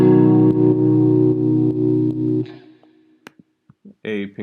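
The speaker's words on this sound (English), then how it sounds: "a reverb, which sounds like this." Strummed chords from a chillout track processed with reverb and widened stereo, ringing steadily, then breaking into a reverberant tail with scattered short clicks and a brief burst.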